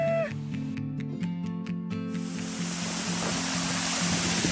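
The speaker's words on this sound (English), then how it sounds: "There is the Imtiazi Falls, Africa's second highest waterfall." A waterfall in Zimbabwe, the country's highest and Africa's second-highest, roars steadily after a few seconds of tonal music fade out, a dense, constant rush of falling water that fills the rest of the moment.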